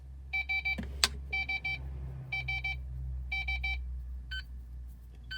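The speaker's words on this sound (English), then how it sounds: "That's the zone 1 walk test alarm." An Optima G3 alarm panel sounds its zone 1 walk test alarm, a faint electronic beep tone repeating in tight groups of four quick pulses with short gaps between groups. A brief click comes near the start.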